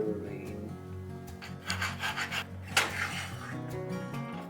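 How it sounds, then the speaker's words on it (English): A spoon scrapes and rubs steadily around a pot as flour is stirred into melted bissel for Trinidadian parsad, with a continuous gritty rasping and a few louder scrapes against the pot. "then you put in your flour slowly and start stirring"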